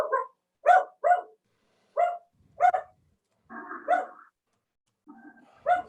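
A dog with a torn meniscus gives a run of short, sharp barks, close and loud, broken by drawn-out whimpering whines, with quiet gaps between bursts and no talking.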